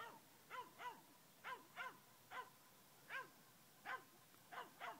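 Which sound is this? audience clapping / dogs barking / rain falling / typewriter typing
dogs barking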